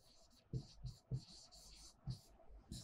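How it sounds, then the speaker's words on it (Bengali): Chalk or marker scratching on a classroom board while two words are written, a few short strokes in quick bursts with faint hiss and brief pauses, fairly quiet and with no talk over it. "খেয়াল করো আমি দুইটা ওয়ার্ড লিখছি।"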